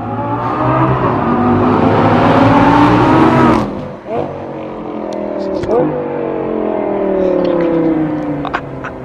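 A Lamborghini engine revs hard and loud up close, its pitch climbing to a peak before cutting off, then a second lower rising pull and a rumbling idle, with voices faint underneath.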